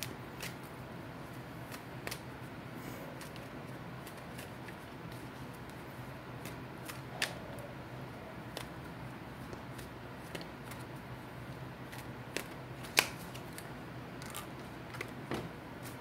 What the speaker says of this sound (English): Let me pull some granny cards.